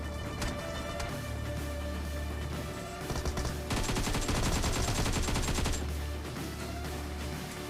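Thompson submachine gun in PUBG Mobile firing rapid automatic bursts, with a long dense stretch of shots in the middle and a steady game background hum.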